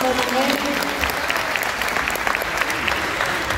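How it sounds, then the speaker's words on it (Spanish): A live concert audience claps loudly for the keyboard player, a steady dense wash of applause with scattered voices and cheers mixed in throughout. "Un fuerte aplauso, por favor, por él."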